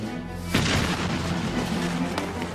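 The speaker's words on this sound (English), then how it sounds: "Santa Anna's cannons slowly battered away at the walls of the fort." Cannon fire bombarding the Alamo fort walls in 1836, heard as a deep booming blast over a rumbling battle din, with a second sharper crack later, loud and close with no talk.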